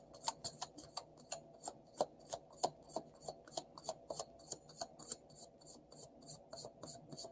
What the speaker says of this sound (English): This is a good shuffle, too.